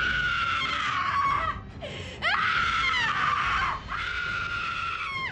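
A woman screams in a horror film scene set in Texas, sustained shrill shrieks in long piercing bursts with brief breaks between them, loud and close.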